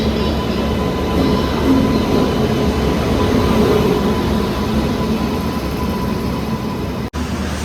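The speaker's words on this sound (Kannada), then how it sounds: "ಫೈನಲಿ ನಮ್ಮ ಟ್ರೈನ್ ಬಂದಾಯಿತು." A train pulls into a railway station, a dense, steady rumble and roar of rolling wagons close by, filling the whole stretch at an even loudness.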